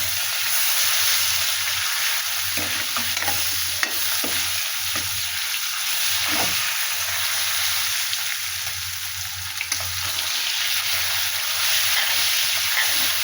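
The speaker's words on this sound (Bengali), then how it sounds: "মাছের তেল যেহেতু দিয়েছি একটু হলুদ দিয়ে দিলাম না তো ছিটাবে সামনে ছিটাতে থাকবে সেই জন্য আমি মাছের দিয়ে দিলাম এটা ভালো করে ভেজে নেব" Mixed vegetables frying in fish oil with a little turmeric for a Bengali chorchori, a loud continuous sizzle with occasional stirring scrapes and no talk.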